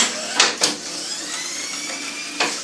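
A Mosca ROMP-2 strapping machine motor running fast, a steady high whirring hum, close and fairly loud, broken by a few short sharp mechanical clicks and bursts near the start and end.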